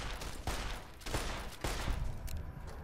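Gunfire in the video game Fallout: New Vegas, several loud bursts of shots arriving in quick succession during a combat encounter, with no talking.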